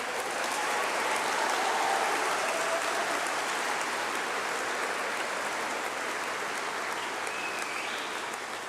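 Sustained applause for graduates at a summer graduation congregation, a dense, even roar of many hands clapping from a large hall, steady and unbroken throughout with no speech.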